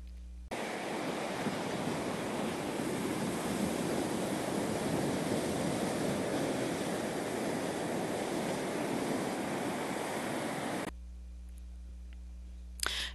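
Surf washing onto the Atlantic shore in a rural stretch of coast, a steady broad roar of waves and wind filling the scene for about ten seconds before dropping away to a quieter hum.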